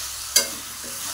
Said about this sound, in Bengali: এবার একটু নেড়ে নেব চিনি দিয়ে।